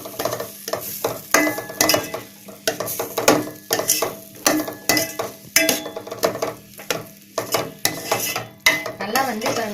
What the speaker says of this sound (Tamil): நல்லா கிண்டுங்க